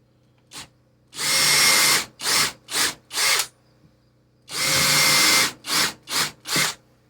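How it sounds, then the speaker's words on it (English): A number 8 countersink bit bores into wood on a sanding cart build, in two groups of bursts: a long whining drill run followed by three short pulses, then the same pattern repeated, with quiet gaps between. "Number 8 screws, so number 8 countersink."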